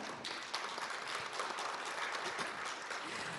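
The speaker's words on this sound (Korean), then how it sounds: "큰 박수 부탁드리겠습니다" Sustained applause from a forum audience on AI, a steady wash of clapping that holds at a moderate level throughout.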